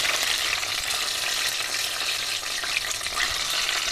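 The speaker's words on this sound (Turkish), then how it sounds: "Suyumuzu ilave ediyoruz" Water poured into seasoned minced meat in a hot pan for stuffed aubergine filling, a loud continuous hiss and sizzle crackling steadily throughout, close and without talk.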